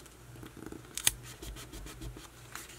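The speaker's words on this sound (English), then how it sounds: "Fold up the bottom. Tape it into place." Tape is pulled and pressed down to hold a folded paper junk-journal cover in place, with close, quiet crinkles and scratchy rubs and one sharper tearing snap about a second in.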